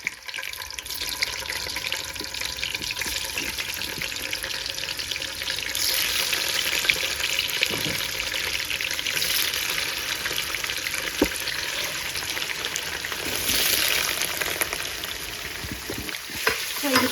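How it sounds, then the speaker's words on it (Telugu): Paneer cubes frying in hot oil sizzle steadily and fairly loudly, with brief stirring scrapes and swells of crackle heard up close, no voices. "సో ఇది బ్రౌనిష్ కలర్ వచ్చేంత వరకు వేగాలి పన్నీర్."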